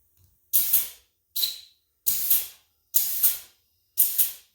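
A grease gun pumping grease into a trailer wheel bearing: five separate hissing, squirting strokes at an even pace, each about half a second long with short silences between them, close and clear.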